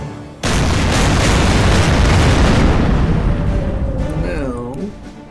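Naval main-gun salvo from the battleship Bismarck in a WW2 Kriegsmarine strategy game, a single loud boom that rolls on for seconds as a long rumbling tail, with a brief tonal whine near the end.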